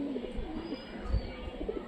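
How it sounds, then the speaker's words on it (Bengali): Pigeons cooing close by, soft low throaty coos repeating through the clip over a faint background hum. "মাশাআল্লাহ অনেক সুন্দর কবুতর"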